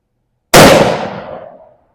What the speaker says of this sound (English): we'll see how many shots it takes me to cut that can